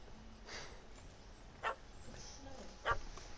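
A puppy in The Witcher 3 yips twice in short sharp barks spaced about a second apart, fairly faint against quiet game ambience.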